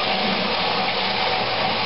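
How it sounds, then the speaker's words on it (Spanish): Water pump sucking up water and discharging it into a drain, a steady rushing, gurgling flow that stays constant and close throughout, with no talk over it. "La pompa chupa la agua y la tira ahí."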